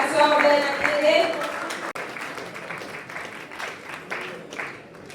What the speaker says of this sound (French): On applaudit, mesdames et messieurs, on applaudit tout le monde